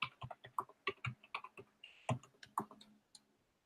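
Someone typing a search query on a computer keyboard, a quick irregular run of close, crisp key clicks that slows and stops, no talk.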